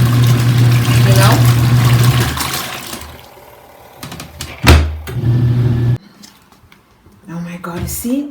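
A portable washing machine spins with water, running with a low hum and churning that cuts out midway, then picks up again with sloshing and clunks. A person talks over it.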